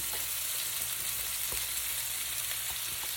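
Stuffed meatballs for a sub cooking in a pan, with a constant hissing sizzle and a few light taps and spits, close and moderate in level, no speech.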